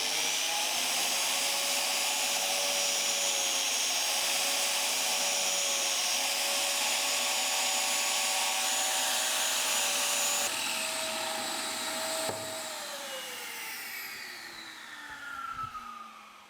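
A biscuit joiner cuts slots into solid oak timber, a loud steady whine running for about ten seconds, then the motor spinning down and winding to a stop.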